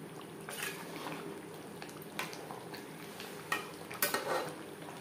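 Aloo chicken curry made with ground spice paste being stirred in a pan, a spoon scraping and clinking against the metal in irregular strokes, with a soft background sizzle throughout.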